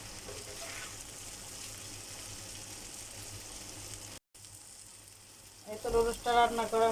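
Homemade noodles fry and get tossed in a pan with a steady, hissing sizzle that briefly cuts out, then resumes under a voice speaking near the end.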